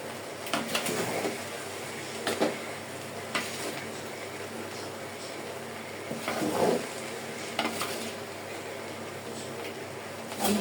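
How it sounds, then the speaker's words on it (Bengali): Fried rice being stir-fried in a pan with little oil, cooked alongside chilli chicken: steady sizzling under repeated scraping and clinking strokes of a spatula, moderately close, with no talking. "এখানে আমি ফ্রাইড রাইসটা ভালো করে লেড়ে লেড়ে ভেজে নিব।"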